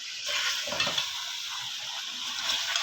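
Mutton korma sizzling and being stirred in a pot after an ingredient goes in: a continuous hot frying hiss with soft scraping stir strokes, close and moderately loud, no talk.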